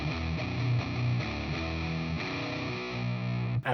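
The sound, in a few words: guitar through JPTR FX Katastrophe pedal with distortion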